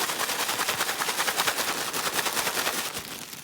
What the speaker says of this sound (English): I'm going to give it a bit shake, shake, shake, shake, shake